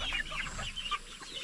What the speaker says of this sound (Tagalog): Yan po ang future tandang natin.